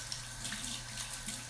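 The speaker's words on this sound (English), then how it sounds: "I'll rinse my brushes here." Tap water runs steadily into a sink while makeup brushes are rinsed, a continuous close splashing hiss with no talk.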